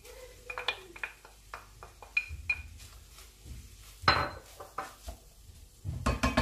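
A utensil clinks and scrapes against a pan while a fish and onion filling with vermicelli is stirred, giving irregular close metallic taps and knocks, faint and sporadic, with a louder clatter now and then.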